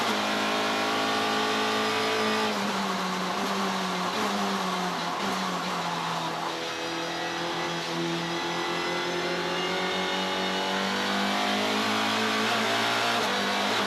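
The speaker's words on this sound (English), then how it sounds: "Masters could do absolutely zilch about as they went through KFM corner and then flew through G Energy corner." GTC race cars at Killarney Raceway in Cape Town roar through corners, engines loud and continuous with rising and falling revs as several cars pass in close succession.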